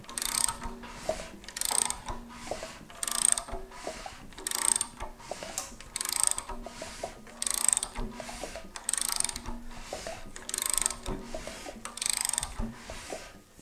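An Oldsmobile 455 V8 being turned over by hand after a valve adjustment with hydraulic roller lifters, giving repeated mechanical clicks and ratcheting sweeps in a steady rhythm of about ten strokes, close and moderately loud with no talk.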